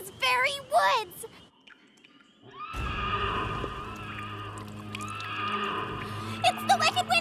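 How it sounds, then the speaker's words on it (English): A cartoon pony horse whinnies in a spooky forest scene, a shrill neigh after some talking, followed by eerie ambient tones and hoof-like clopping, with voices in the scene. "It's the wicked Winnie of the headless horse!"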